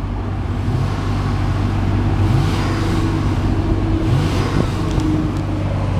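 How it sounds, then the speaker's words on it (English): 2002 Acura TL Type S with a 3.2-litre VTEC V6 running close by, a steady, even engine drone with a low rumble and slight swells in pitch, no voices over it. "Very powerful, great sounding V6 motor."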